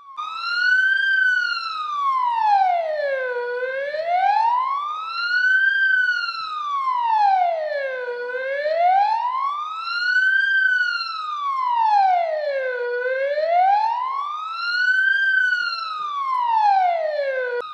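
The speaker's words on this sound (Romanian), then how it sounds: "toate autospecialele din județ au staționat și au pornit semnalele acustice și luminoase timp de un minut" Police car sirens sounding together for one minute in tribute, a loud continuous wail sweeping slowly up and down in regular cycles of about four seconds, heard alone with no talk.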